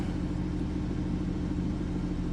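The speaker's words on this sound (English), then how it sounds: "Truck is running." A truck engine idles in a steady, close, low rumble that holds even and unbroken throughout, with no talk over it.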